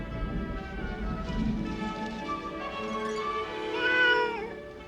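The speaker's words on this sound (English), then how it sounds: "getting a cat out of a tree" A cartoon cat stuck up a tree in a Superman cartoon meows repeatedly, drawn-out plaintive cries rising in pitch toward the end, loud and close with no talk over them.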